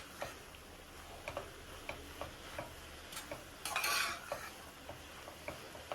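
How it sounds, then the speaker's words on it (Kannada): Leafy greens fry in a pan while a spoon stirs them, scraping and tapping the metal in a loose repeated rhythm over a low sizzle, with one louder scrape midway; close and fairly quiet, with no speech. "ಫ್ರೈ ಆಗ್ತಾ ಇದೆ. ಚೆನ್ನಾಗಿ ನೀರೆಲ್ಲ ಎಳ್ಕೊಬೇಕು."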